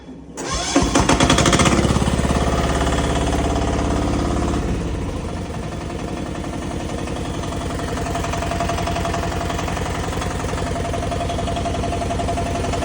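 MXG XE10P machine engine cranks and fires, a loud harsh start burst that settles after a few seconds into a steady, even idle running on alone.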